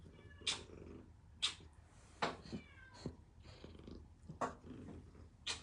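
A cat purring and meowing close by, with repeated short rising calls over a soft, continuous rumbling purr and no speech.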